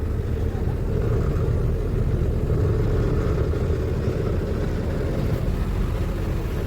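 Loaded trailer truck straining up a hill with wheels spinning, a heavy continuous engine drone and rumble with wind buffeting the microphone, while someone talks over it.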